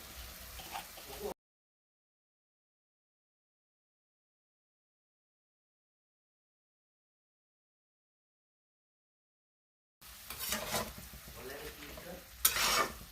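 Mutton frying in a karai as ginger garlic paste is stirred in, with a steady sizzle and scraping of a utensil against the pan, heard briefly at the start and again after a long silent gap.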